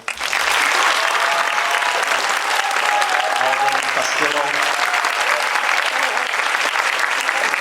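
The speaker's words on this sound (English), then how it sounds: "let's give them a nice cheer as they come up" A concert audience at a high school band senior recognition applauds steadily and loudly throughout, with an announcer's voice reading names over the clapping.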